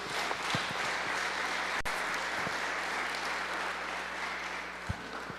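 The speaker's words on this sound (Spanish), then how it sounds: "Denle un aplauso al Rey de Reyes" Sustained applause from a church congregation during a sermon, steady and fairly quiet, with a few sharp knocks scattered through it.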